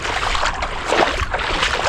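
A boat moving on water in the Sundarbans, giving a steady close wash of lapping and sloshing water with a low continuous rumble for about two seconds.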